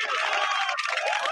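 A crowd at a tribute show applauds and cheers for a singer, a loud, dense wash of clapping and shouting voices that runs unbroken from start to finish.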